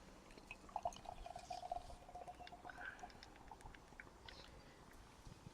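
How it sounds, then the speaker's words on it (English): Cricketers Arms Spearhead Pale Ale, a 5.2% beer, poured from a can into a glass, giving a faint, soft trickling and gurgling pour with light fizzing and a few drips, quiet and without speech. "we're just going to pour it straight in."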